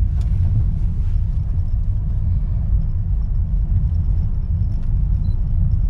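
A 2020 Honda Jazz cruises in fourth gear, its engine and road noise forming a steady, low, close rumble with no talking.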